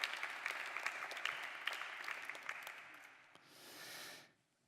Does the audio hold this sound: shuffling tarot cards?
no